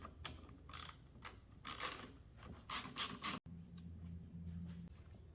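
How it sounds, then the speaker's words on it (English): A T25 Torx screw is removed from the engine of a 2016 Audi A7 Quattro with a ratchet, giving quick clicking bursts and short mechanical rattles at close range, then a low steady hum. "Now let's remove this little T25 torque screw."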